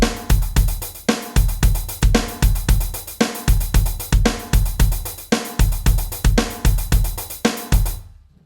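A drum kit plays a steady, repetitive groove, with a punchy bass drum pattern repeating under crisp hi-hats and snare. It is loud and close, with no voices.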